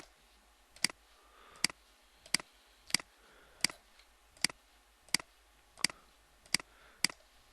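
Sharp computer mouse clicks during an on-screen pointing exercise, about nine single clicks at a steady pace of roughly one every 0.7 seconds, crisp and close against a quiet background.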